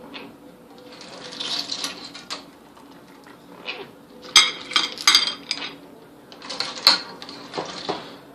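A slotted metal spoon scraping and clinking inside a cooking pot while scooping out California-raised clams, with irregular bursts of bright clattering separated by quieter gaps, close and fairly loud.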